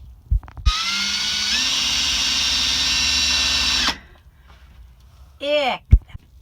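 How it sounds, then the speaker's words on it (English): A power drill bores holes in a van's metal roof while a skylight and vent are fitted. It gives one sustained, loud whine of about three seconds, with brief knocks before and a short squeal after. "gonna drill holes in the roof where we have put the circle for the vent and the square for the skylight"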